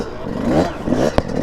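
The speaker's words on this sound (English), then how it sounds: "can you not hear bikes?" Motorbikes revving nearby, engine pitch sweeping up and down in two quick bursts, with a sharp clack near the end, over a brief stretch.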